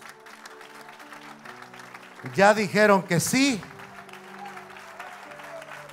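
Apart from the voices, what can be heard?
applause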